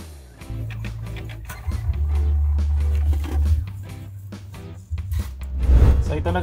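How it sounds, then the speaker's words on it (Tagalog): A home inkjet-style printer printing a T-shirt design onto dark transfer paper, with steady mechanical whirring and low motor hum for several seconds, broken by clicks and carriage shifts, fairly close and loud. "So ilalagay ko lang siya sa aking printer."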